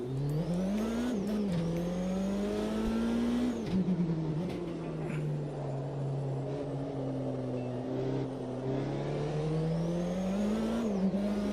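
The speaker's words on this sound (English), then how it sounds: "That power and torque profile is properly special in this car with that turbo." Turbocharged race car engine in a racing sim game, holding a loud steady drone with rising and falling revs and a few sharp dips from gear changes, running continuously and up close.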